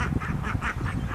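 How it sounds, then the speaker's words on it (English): Several ducks quack in quick succession, a rhythmic run of nasal calls, moderately close with no talking. "And there's the ducks. You can hear them."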